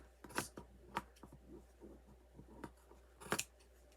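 Scissors snip diagonally through craft material for a tomato cage Uncle Sam gnome, several short close cuts spaced irregularly in a quiet room.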